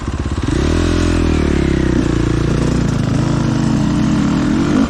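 A 450 enduro motorcycle with slick tyres pulls away, its engine loud and close with a steady rising drone and clattery single-cylinder rumble that holds throughout.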